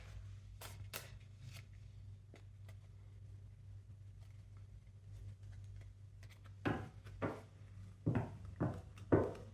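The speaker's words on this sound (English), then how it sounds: "Just going to shuffle a bit and then shuffle in a way in order to get some reverse cards too." Tarot cards being shuffled by hand, soft papery riffles and flicks in scattered bursts over a low background hum, growing louder and busier toward the end.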